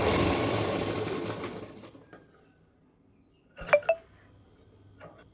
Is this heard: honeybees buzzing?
no